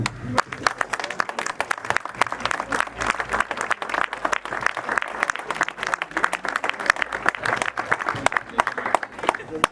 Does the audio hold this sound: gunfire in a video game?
no